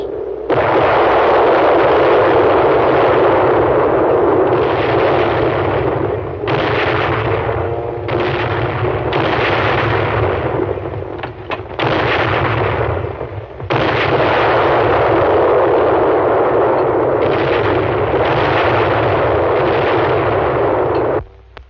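The big guns of the battleship Missouri fire on a beach, heavy booming blasts that roll into one long loud rumble of thunder for about twenty seconds, with brief dips between volleys.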